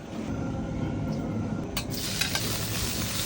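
Egg and shrimp fried rice is stir-fried in a carbon steel wok, with a steady close sizzle and a few scraping stirs.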